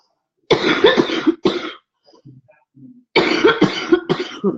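Someone on a live stream coughs in two close bursts that are separated by a pause with faint throat noises, all heard near the microphone.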